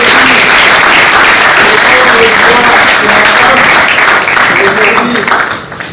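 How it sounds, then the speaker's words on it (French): At an awards ceremony, the audience gives loud, dense applause that continues without pause, with cheering voices mixed into the clapping. It tapers slightly in the final moment. "nous allons inviter ici Madame Mujinga Jory, sous nos applaudissements."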